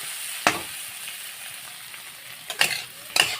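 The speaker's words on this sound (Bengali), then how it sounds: "ভালোভাবে নেড়ে চেড়ে কষিয়ে নেব আলুটা" Boiled potatoes stir-fried in a pan, with a steady low sizzle and three sharp scraping stir strokes standing out near the start and end of the clip.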